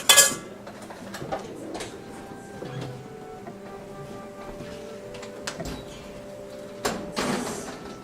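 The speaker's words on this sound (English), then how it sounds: "now we're going to transfer our dressing into a pan, just like that." Holiday dressing is moved into a pan, with clinks and scrapes of a utensil against cookware, a louder knock at the start and another clatter near the end, over quiet room tone.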